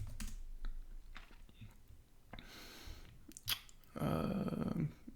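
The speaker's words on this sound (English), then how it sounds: "So let's type in here circular button." Scattered keystrokes tap on a computer keyboard, close and soft, followed by a quick burst of faster typing near the end.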